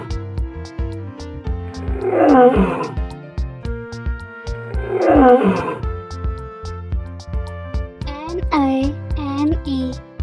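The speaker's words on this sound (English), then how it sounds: "Lions." Lions let out two rumbling roars over a cheerful children's music bed, with a voice-like higher call following near the end.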